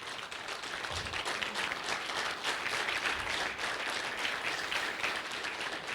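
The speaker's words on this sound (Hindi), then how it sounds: "तो मेरे ख्याल से इतनी बड़ी अचीवमेंट्स के लिए खड़े होकर के ताली होनी चाहिए।" Sustained audience applause at an event honouring financial achievements, with dense steady clapping from a crowd filling the whole stretch at an even level.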